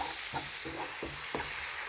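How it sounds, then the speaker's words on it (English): Vegetables sautéing in a pan give a steady hiss of frying, broken by a few soft scraping stirs. The sound is close and fairly quiet, and no one talks. "Saute these until these vegetables are fully cooked"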